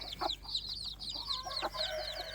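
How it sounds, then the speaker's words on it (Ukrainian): Young chicks peep in rapid high chirps almost without pause, with soft lower clucks mixed in, close by and moderately quiet. "Отакі от курчаточка."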